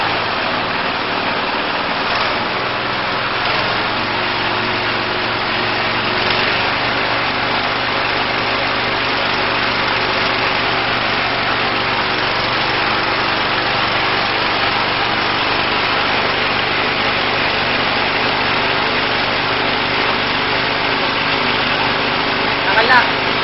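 An Agriventa shredder's small engine runs steadily at a high, buzzing pitch throughout, close and loud, with a faint knock near the end and no words spoken over it.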